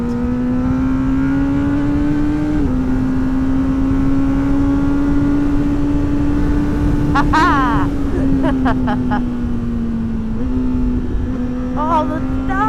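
Honda CBR1000RR SP2 Fireblade engine drones loud and steady, its pitch climbing under acceleration and dropping with downshifts, with sharp crackling blips on the shifts, heard from on the bike with wind rush.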